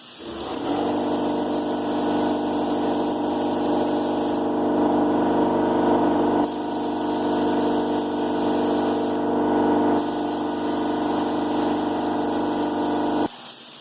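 A spray gun lays a wet base coat of paint onto shaved New-Edge Mustang bumpers, a loud continuous hiss with a steady compressor-like drone that runs almost fourteen seconds without pause, close and with no voices.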